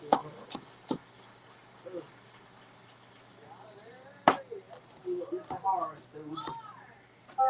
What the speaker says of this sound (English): Right now, I'm chopping up some garlic